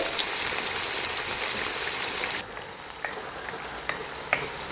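Onion frying in hot oil for a Fergana-style Uzbek beef pilaf: a loud, dense sizzle fills the first half, then drops sharply to a quieter, steady fry with occasional pops and crackles.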